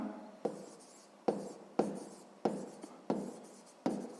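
A pen writes down a math answer on paper, six or seven crisp strokes and taps close by at a regular pace, with no talking.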